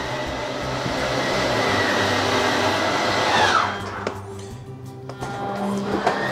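The 12-volt electric Lippert in-wall slide-out motor on a 2022 Riverstone 42FSKG fifth-wheel toy hauler whirs steadily as a slide moves, a continuous motor drone that stops partway through, followed by a few faint clicks and knocks.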